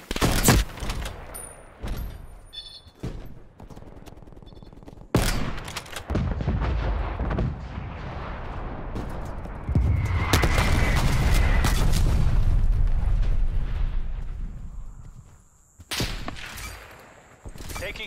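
Artillery fire in a military video game: booming blasts and a sustained heavy roar of shelling, fairly loud, with game voices faintly heard over the barrage.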